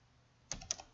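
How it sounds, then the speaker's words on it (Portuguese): Typing on a computer keyboard: two or three quick, light keystrokes close by, faint against a quiet background. "Vou digitar aqui"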